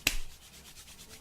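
Bare hands rubbed briskly together after bourbon is splashed on the palms: a sharp slap-like start, then a soft, dry swishing that fades into quiet friction, close up.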